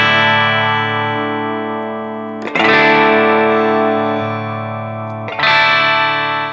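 Low notes through a Mesa Boogie Mark amplifier with the treble boosted ring out distorted and bright; three struck attacks, each sustaining and slowly decaying before the next.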